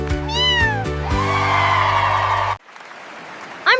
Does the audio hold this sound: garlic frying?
no